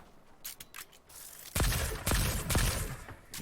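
Rapid gunfire in a Fortnite match, a few quieter shots followed by a loud close burst of overlapping cracks and impacts, with no talking over it.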